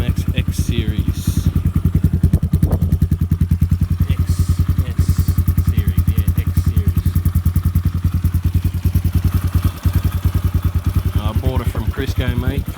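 A GMX 250cc X Series motorcycle engine runs loud and close, its fast, even firing pulses holding steady the whole time, with occasional clatter and a few quick throttle changes, and no talking.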